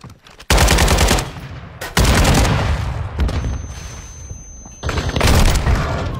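Bursts of automatic AK rifle fire in a first-person shooter game round, loud and close, with a long opening burst, a second burst, and then sporadic shots and game effects.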